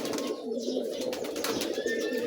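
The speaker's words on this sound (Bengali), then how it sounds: "ছেড়ে দেন একটু দেখি কবুতরগুলো" Red Giribaz pigeons coo nearby in soft, low, rolling calls that repeat throughout, with other faint bird chirps mixed in.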